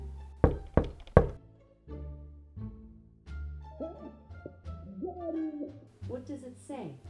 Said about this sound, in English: I think I hear a knock.